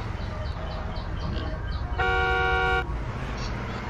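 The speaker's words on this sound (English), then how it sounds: "Stop honking." A car horn in the video game GTA San Andreas gives one sustained honk of just under a second, standing out over a continuous din of game traffic and engine noise.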